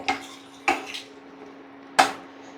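Cooked beans going into coconut milk in a pot for Olan, a Kerala Onam dish, marked by three sharp clinks of a metal spoon against the pot over a steady low hum.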